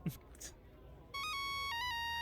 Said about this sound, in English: The phone rings 10 minutes later